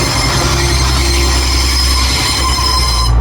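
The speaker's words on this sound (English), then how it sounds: "Now making its way out, it's going to be a 185 to Cleethopes" A Class 185 diesel passenger train pulls out of a large city station toward Cleethorpes, loud and close, its wheels squealing in sustained high tones over a heavy, constant engine and rail rumble.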